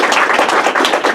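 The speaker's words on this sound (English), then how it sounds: "Now we can applaud." Applause from a lecture audience, a brief burst of many hands clapping in a rapid, dense patter, loud and close.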